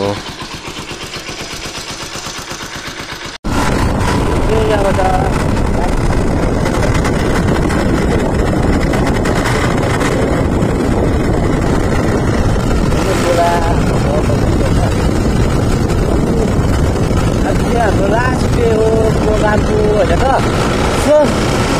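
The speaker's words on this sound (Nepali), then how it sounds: "यहाँ चाहिँ अहिले साथीले रेस गरिरहेछ होइन बाइक" A motorbike being raced on a road in Namchi, Sikkim, its engine droning loud and close with rising and falling revs for a long stretch after an abrupt start, mixed with crowd noise and indistinct talk.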